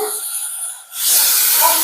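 Coconut milk poured into soya meat sautéing in a pan, bringing a sudden loud, steady hiss of steam and sizzle that replaces quieter frying partway through and continues to the end.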